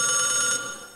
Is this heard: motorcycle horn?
no